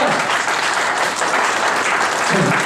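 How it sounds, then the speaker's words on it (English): Loud, dense applause from the crowd at a Vietnam Veterans Day gathering, a continuous roar of many hands clapping at once that stays steady throughout. "Let's hear a round of applause."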